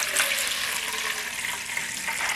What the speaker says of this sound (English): let's pour this in